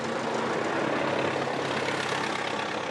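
An old tractor on a rural Cuban farm idles with a steady, even low engine rumble, moderately loud and unbroken, with no voices.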